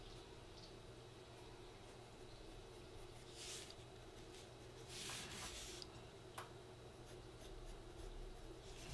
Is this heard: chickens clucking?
no